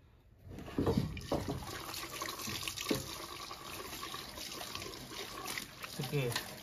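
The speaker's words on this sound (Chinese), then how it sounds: "要洗干净这个泥巴" Running water rinses mud off freshly dug niu da li roots, a steady splashing tap flow with scrubbing and handling noises, and a voice talking over it.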